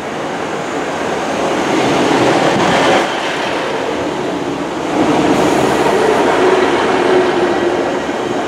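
A TransPennine Express passenger train arriving at a station makes a loud, steady rumble of wheels and engine close by, swelling in two broad surges with a faint metallic ring.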